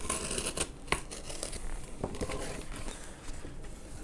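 Scissors snip through book pages in a quiet, close series of crisp cuts and rustles, the blades clicking irregularly over a few seconds as the paper crinkles.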